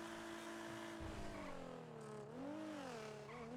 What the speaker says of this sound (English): I think it's the exact same engine noise,